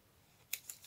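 Scissors snip through paper while making a craft, giving two short, crisp cuts close up in an otherwise quiet room.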